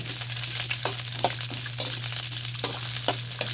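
Milkfish (bangus) with string beans frying in a pan, giving a steady hot oil sizzle under a low constant hum, with a few soft scrapes and stirs of a utensil.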